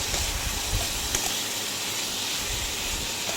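Potatoes and raw papaya, seasoned with salt, coriander powder and cumin powder, sizzle in a pan for aloo kasha, giving a close, steady frying hiss with no talk.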